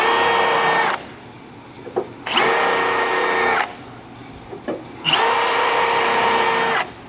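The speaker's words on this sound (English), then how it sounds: "I like to use a standard 1/2 inch drill bit is to actually make my center point" A power drill with a standard 1/2 inch bit runs loud and close in three sustained bursts, each a couple of seconds long, separated by short pauses with light clunks, drilling center marks into a 2015-2025 Ford F-150 frame.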